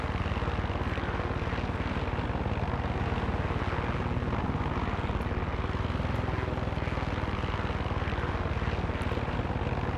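Helicopter flying in the video game Far Cry 6: a continuous loud rotor and engine roar with a fast pulsing beat, steady and close for the whole stretch, with no talk over it.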